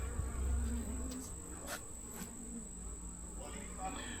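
Honeybees buzzing at an open weak hive during a frame inspection, a low steady hum under faint background noise with a constant high whine.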